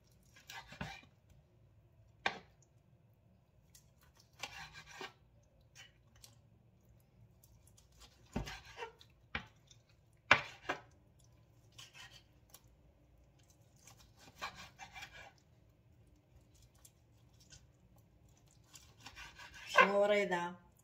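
A knife slices through cooked beef tongue on a board, giving a run of sharp separate cuts and scrapes at irregular intervals over near silence, with a louder rasping stroke near the end.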